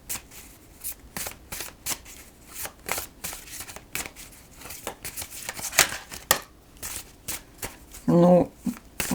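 Tarot cards being shuffled by hand, a rapid run of close, crisp riffling flicks and soft card slaps, ending in a louder thump near the end, with no talking.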